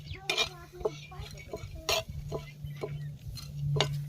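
Spices and dal are stirred and roasted in a pan for a Marathi mutton bhaji, with a spoon clinking and scraping against the metal over a steady low hum and faint sizzle.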